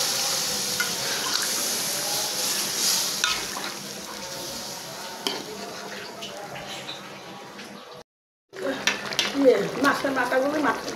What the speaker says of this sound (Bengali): তেলের উপর উঠে গিয়েছে, এখন আমি তেলটা দিয়ে দিই।